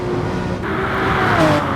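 A Porsche 911 race car engine in GT Sport drones loudly and continuously up close, with a thin rising whine near the end as another car is heard ahead.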